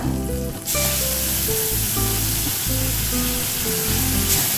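Tomato paste hits a pan of turmeric-spiced food over low heat for a Bengali Sunday lunch, setting off a loud, steady hiss that runs almost the whole time over a tonal musical background.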